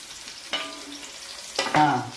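Fish curry in a pan sizzles as ingredients are tipped in, two bursts of hissing frying a second apart over a quieter background crackle.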